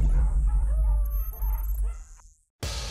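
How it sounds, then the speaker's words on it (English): Puppies whimpering and yipping close by, thin high whines and short yips over a low background rumble, cutting off abruptly into silence before a burst of other noise. "You know these dogs, maybe cute and all, but soon they're gonna grow into huge dogs."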